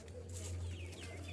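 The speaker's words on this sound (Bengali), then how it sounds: "এই যে দেখেন আমার মুরগিগুলা" Colour bird chickens on a farm cluck softly and intermittently over a steady low hum, faint and somewhat distant.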